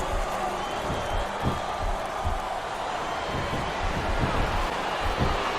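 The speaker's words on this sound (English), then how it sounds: "Sounds like this crowd's got something on their minds, King." A wrestling arena crowd in the video game WWE SmackDown vs. Raw 2007 roars in a steady, dense wash, with thuds from the ring underneath and commentators talking over it.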